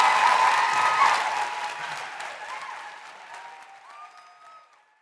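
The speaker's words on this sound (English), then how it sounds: "So can I just say an enormous round of applause for Michelle Telfer and" Audience applause at Perth Concert Hall after a live show, a large crowd clapping loudly at first, then thinning and fading away with a few faint tonal sounds at the tail.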